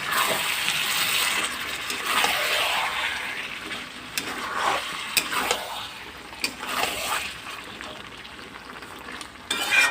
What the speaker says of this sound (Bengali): মাংসটা দিয়ে দিয়েছি, আস্তে আস্তে কষানো হোক